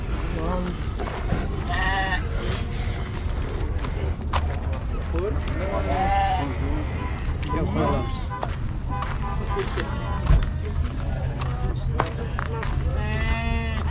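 Sheep and goats bleat repeatedly at a busy livestock market in Uzynagash, Kazakhstan, wavering calls from several animals near and far, mixed with steady crowd chatter and people talking throughout.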